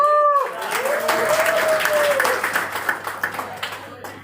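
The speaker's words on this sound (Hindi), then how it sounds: "सेवन जनरेशन की बात किया तो बहुत कम तालियां बजी" Audience applause at a live business speech in Ahmedabad, a brief swell of clapping that thins into scattered claps as it fades, with a speaker's voice at the start.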